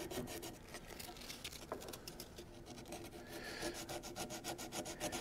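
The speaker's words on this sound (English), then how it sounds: "Kind of going with some sandpaper. I'll just soften this a little bit." Sandpaper rubbed over a wooden thoroughbred rocking horse, a quiet, steady, rhythmic rasping of back-and-forth strokes that speeds up near the end.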